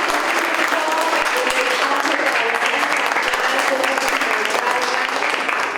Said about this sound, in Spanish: otro fuerte aplauso para nuestros científicos